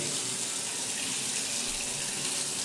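A kitchen tap in South Korea runs steadily, a close, even hiss of flowing water into a sink with no breaks or voices.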